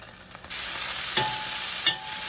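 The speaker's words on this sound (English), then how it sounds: "So while the meat is searing" Beef tips hit a hot pan with a little oil and begin searing, a sudden steady sizzle that holds evenly, with a couple of brief stirring clatters, close and without talk.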